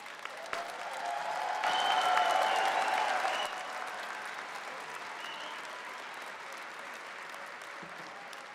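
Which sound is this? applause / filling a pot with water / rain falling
applause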